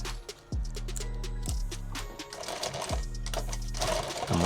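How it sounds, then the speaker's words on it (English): A sewing machine stitches fabric for a subgun micro rig, running in short bursts of rapid needle beats separated by brief pauses, close and clear with no talking. "I'm going to sew that,"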